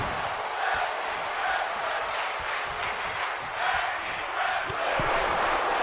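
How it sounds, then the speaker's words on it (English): A virtual arena crowd cheers and roars during a WWE 2K23 tag team wrestling match at WrestleMania in Dallas, a broad steady swell of noise that rises and falls slightly throughout. "And you hear the crowd here in Dallas."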